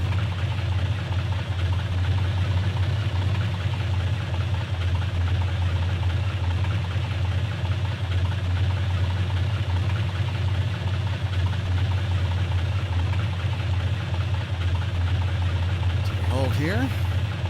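Steady engine drone of a small airplane taxiing onto the runway, a constant low hum and rumble at even loudness throughout, with a voice talking over it.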